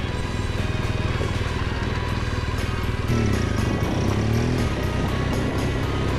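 A BMW R1200GS Adventure motorcycle rides along a street with its engine droning steadily and close. The pitch shifts partway through as the rider changes speed, and no one speaks.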